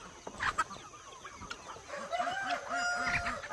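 Homestead chickens clucking in their coop before being let out, a steady run of soft rhythmic clucks with a rooster-like call and faint bird chatter, moderately quiet.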